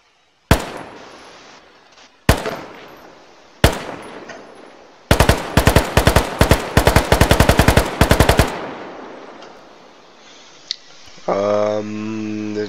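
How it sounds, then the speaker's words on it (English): AK-74 rifle gunfire in the Arma game with the RHS mod: three single loud shots with trailing echoes, then a rapid automatic burst of about two dozen rounds, followed by mechanical handling noises. "The AK-74 is just is a well-known rifle."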